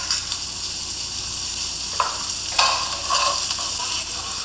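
Vegetables with salt and pepper sizzling in a pan as they are stirred, a continuous frying hiss broken by a few scraping strokes of the spoon against the pan.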